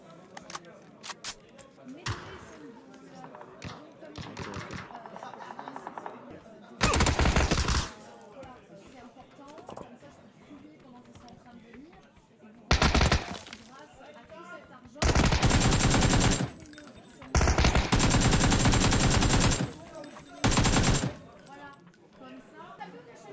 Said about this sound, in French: Oh, putain, ça tire, là, ça tire.